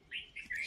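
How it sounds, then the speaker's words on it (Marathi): Birds chirp at a quiet ashram temple, Bhuleshwar temple near Pune, with three brief high tweeting bursts that rise and fall, the last sustained, over faint low background and no talk. "इतकं पक्ष्याचा आवाज सोडला तर कशाचाच आवाज येत नाहीये."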